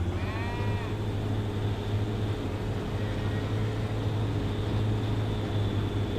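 Swiss cows in Farming Simulator 25 give a couple of short, bleating calls near the start, set over a steady low farmyard hum that runs throughout.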